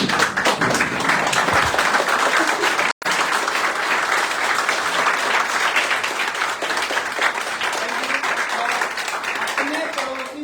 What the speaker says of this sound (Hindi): इधर अपने लिए एक बार ताली बजा लीजिए।